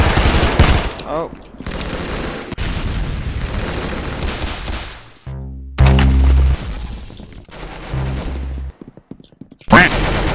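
Gunfire in a Roblox shooting video game comes as rapid bursts of loud shots and booms, broken by short gaps, with abrupt cuts and bangs close up.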